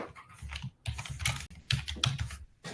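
Fingers type quickly on a computer keyboard, a faint, close stream of light clicks and taps with brief gaps between bursts.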